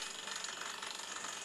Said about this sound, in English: The debris is inspected as a steady blast of air shoots it out of the hole while a drill slowly works